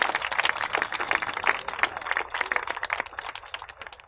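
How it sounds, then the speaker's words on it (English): An outdoor crowd at a park wetlands grand opening applauds, dense overlapping hand claps that swell and then slowly thin out over a few seconds, fairly close and lively. "Please give them a round of applause."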